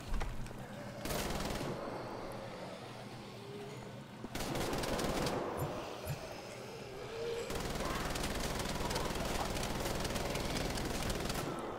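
A mounted turret machine gun fires in Wolfenstein: The Old Blood. Loud, sustained bursts of rapid automatic fire run almost without break, with brief gaps between long volleys.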